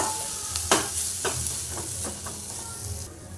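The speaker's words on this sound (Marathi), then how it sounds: "मसाले घालून घेऊया आणि छान परतून घेऊया" Spices sautéing in a pan for a festival offering meal, a steady close sizzle and hiss with a few sharp scraping strokes of a spoon, no talking.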